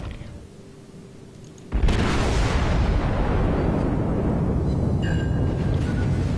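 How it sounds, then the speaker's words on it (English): Torpedoes strike a ship in the naval game World of Warships, beginning with a sudden deep boom that swells into a sustained roaring explosion and rumble, with mechanical clanks near the end. "After all that, 3 torpedo hits."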